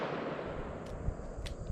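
A Taurus Tracker .44 Magnum revolver firing at a shooting range, with two sharp, loud cracks about half a second apart and a dull background rumble between them.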